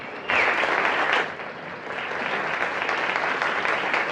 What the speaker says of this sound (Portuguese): Realmente eu gostaria que vocês aplaudissem com força